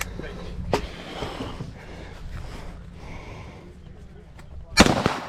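A Daniel Defense MK12 rifle fires two sharp, loud shots several seconds apart, each with a short echoing tail, between quieter outdoor rustling.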